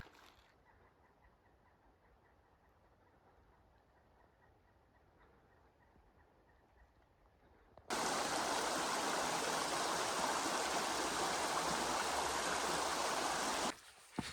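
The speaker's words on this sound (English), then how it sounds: "crossed what I think was a straight creek" A mountain creek on a hiking loop: faint, distant water murmur at first, then from about eight seconds a loud, close, steady rushing flow that fills the scene until it cuts off near the end.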